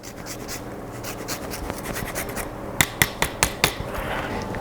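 Lemon zest grated over a fish dish, a soft raspy scraping repeated in close strokes, ending in a short run of sharper, distinct scrapes near the end.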